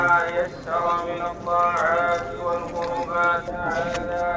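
Horse hooves clip-clop along beneath people talking after Eid prayers in Saudi Arabia, with the steps blending into the steady background of voices.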